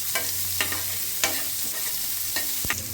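Green chillies sizzle in hot oil with garlic and ginger, under a steady hiss broken by several sharp scrapes and clacks of a spoon stirring the pan.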